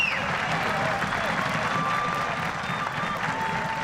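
Steady applause and crowd noise fill a stadium at the 2015 USA Rugby D1A National Championship between Saint Mary's College and Life University as an injured player leaves the field, with a commentator's voice running underneath.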